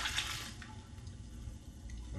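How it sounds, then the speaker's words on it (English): Liquid pours steadily into a bowl of dry seitan batter, a continuous soft watery rush, close and moderately loud, with no voices. "And then we're going to pour in our liquid."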